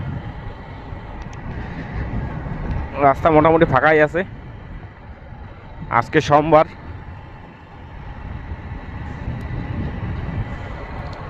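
Steady roar of a Kawasaki Ninja H2R motorcycle ridden on a road near Siliguri, a continuous engine and wind rush running throughout, with someone talking briefly over it twice.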